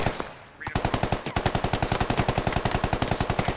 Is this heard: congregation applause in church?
no